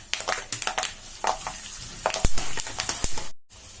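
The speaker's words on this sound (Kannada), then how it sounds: "ಅದಕ್ಕೆ ಇದಕ್ಕೆ ಶೇಂಗಾ ಜೊತೆ ಹಾಕೊಂಡು ಚಲೋತ್ನಾಗೆ ಹುರ್ಕೋಣ ಇವನು" Garlic and peanuts fry in oil in a pan for bhadang, a spiced puffed-rice snack: a steady crackling sizzle up close, broken by quick scraping stirs and clatters, ending in a sudden brief silence.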